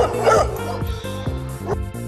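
Dogs barking and yipping, several quick barks in a steady rhythm over backing music, close and moderately loud.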